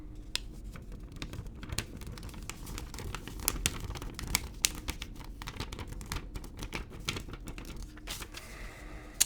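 A paper banknote, a 500-franc note from Central Africa, is handled close up, giving a steady run of crisp crackles, rustles and sharp snapping clicks with no talking.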